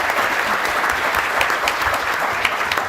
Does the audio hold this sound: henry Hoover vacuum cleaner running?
no